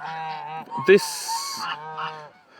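Geese from a flock of about a hundred on a pasture in the Russian Far East honk close by, several nasal calls in quick succession with a sharp burst in the middle.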